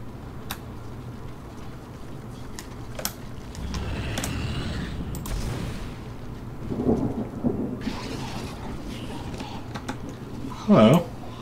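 In the video game Dead Space, rolling thunder rumbles under steady rain with a few sharper cracks and a louder burst near the end, while someone comments aloud over the storm.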